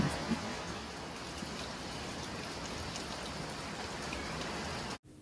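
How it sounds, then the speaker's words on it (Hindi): Steady, dense rain falls continuously, a broad even hiss with no pauses, until it cuts off abruptly at the end. "वैसे अभी तक बारिश हो रही, ये देखें।"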